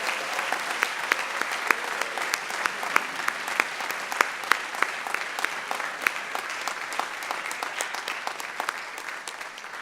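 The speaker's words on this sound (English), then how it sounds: "Please give one round of applause for all the new inductees." Audience applause for new inductees at a National Honor Society induction ceremony, with steady, dense clapping from a sizable crowd that carries on evenly for about ten seconds.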